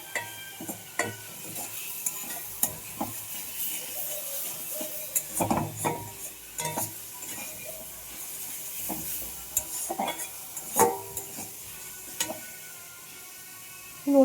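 A spoon scrapes and stirs ground coriander, chili and turmeric through egg curry in a pan, irregular close knocks and scrapes over a faint sizzle, with no talking.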